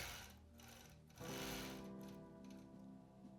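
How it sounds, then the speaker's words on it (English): A sewing machine runs continuously through long free motion quilting stitch runs, a steady close mechanical whir with fine rapid ticking that rises in intensity partway through and keeps going without talk. "So now we have just some longer stitch runs."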